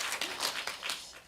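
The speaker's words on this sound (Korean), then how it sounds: "박수로 환영해 주시기 바랍니다" A film festival talk audience in a Korean cinema gives a short, faint round of clapping to welcome guests, a few scattered hand claps heard at a distance.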